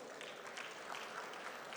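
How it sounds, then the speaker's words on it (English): An audience at a talk on accessible built environments gives a brief, steady round of applause, heard a little distant and fairly quiet. "please do give all of us a round of applause."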